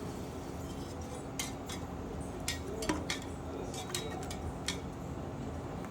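A spoon stirring pulao ingredients, onions with lemon juice and curd, in a metal pan, giving a few light scraping clinks and taps spread over several seconds against a quiet kitchen background.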